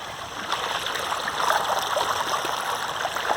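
Swift, churning flood water rushes through a swollen stream in February, a steady broadband roar of white water heard close and continuous, with no voices over it.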